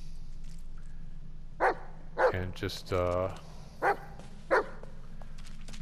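A dog barks in the Blair Witch video game, several short separate barks and a whimpering yelp spaced across the moment, close and clear over a low ambient hum, with a brief spoken word alongside.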